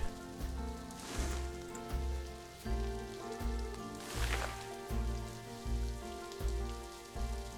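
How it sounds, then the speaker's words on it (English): Rain pours in the Planet Zoo management game, a dense steady patter over looping background music with a rhythmic low beat. "Wow, that rain is coming down."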